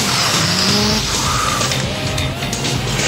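A cartoon car peels away with screeching, skidding tires, the squeal sweeping over a loud, continuous engine roar while background voices and noise clutter the mix.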